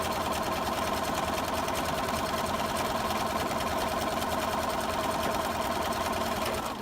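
A sewing machine runs continuously while stitching a quilt block, a fast, even needle whir that holds steady and close for the whole stretch, stopping right at the end.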